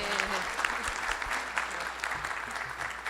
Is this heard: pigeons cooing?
no